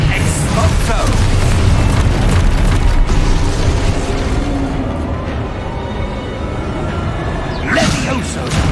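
A booming blast from the Exposo spell in Hogwarts Legacy sounds amid game combat, with heavy rumbling bursts and mechanical whooshes. A voice calls out spell names over the noise, and later a sharper crackle rises.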